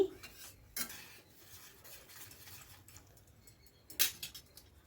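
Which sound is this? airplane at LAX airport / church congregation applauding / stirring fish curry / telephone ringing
stirring fish curry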